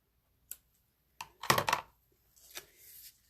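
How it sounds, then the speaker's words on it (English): Ribbon scissors snipping off excess ribbon on a Valentine wreath, a few sharp close clicks followed by a short rustling cluster and a softer trailing snip. "And then cut this excess off, my ribbon scissors."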